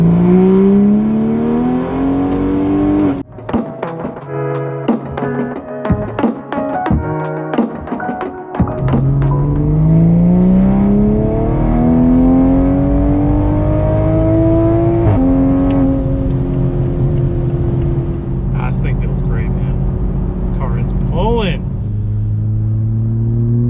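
A custom-tuned car accelerates through its gears up to fourth. The engine drone climbs in pitch, drops at each shift and climbs again, loud from inside the cabin, while someone talks over it.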